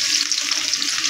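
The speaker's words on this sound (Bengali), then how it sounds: "তেল গরম হয়ে গেছে, এবার পেঁয়াজগুলো দিয়ে দেব।" Onions sizzle in hot oil for a beef dish, a steady loud hiss and crackle of frying that carries through the whole moment with no talk over it.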